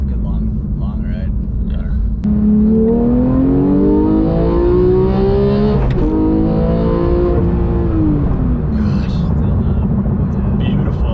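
A Porsche 991.2 GT3 with a manual gearbox accelerates hard, its engine note climbing steadily through a loud, close rev, briefly dropping and rising again, then easing off.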